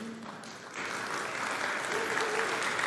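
Audience at a phone launch event bursts into applause after a brief pause, a dense clapping wash that builds and holds steady, moderately loud across the hall.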